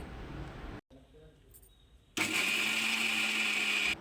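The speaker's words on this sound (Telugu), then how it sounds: "ముందుగా ఉడకబెట్టిన శనగపప్పుని మిక్సీ పట్టుకోవాలి" A mixer grinder whirs loudly for a couple of seconds grinding boiled chana dal, then stops abruptly, after a quieter stretch with brief clicks before it starts.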